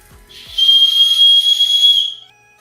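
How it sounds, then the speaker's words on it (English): A survival whistle on a paracord bracelet blown once, loud and piercing, a steady shrill tone held for about a second and a half before cutting off. "What I said previously about the whistle, it is freaking loud."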